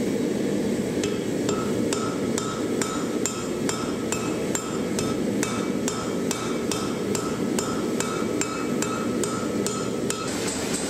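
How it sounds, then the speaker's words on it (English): A hand hammer strikes a hot billet at welding heat while a seax is forge welded, giving a rapid, even series of sharp metallic clinks, loud and close, repeating throughout with no voices. "another welding pass is done using a hand hammer"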